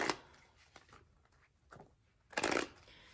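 Tarot cards shuffled during a card reading, a soft riffling rustle in two bursts, one brief and one louder near the end, with quiet gaps between.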